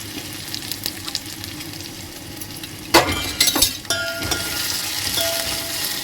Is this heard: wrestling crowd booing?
no